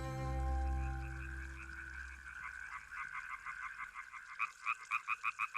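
Frogs and toads croak by a river among reeds, starting with a low drawn-out drone and building into a rapid string of pulsed croaks that grow louder and more evenly spaced toward the end.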